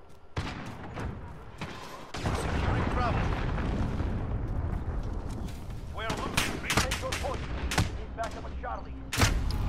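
Cruise missile strike explosions in the Modern Warfare video game boom and crack repeatedly, a sustained rumble broken by sharp blasts and gunfire, loud and close, with a player talking over them.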